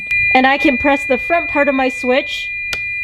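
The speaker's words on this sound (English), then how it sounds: "when I get out of park and put the truck in reverse, sorry for all the beeping" A Toyota Tacoma pickup sounds its reverse gear warning, a steady series of loud, evenly spaced beeps that carries on under someone talking close by.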